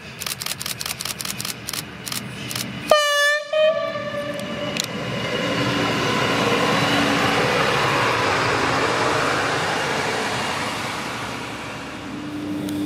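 A regional train runs along the Weschnitztalbahn line near Birkenau, loud and close: rapid clicking at first, then a brief horn-like tonal call, followed by a sustained broadband rumble and rolling roar that swells and slowly fades.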